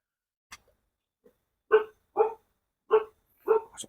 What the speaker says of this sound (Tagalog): Aso ko rin, nag-inay din yung aso ko.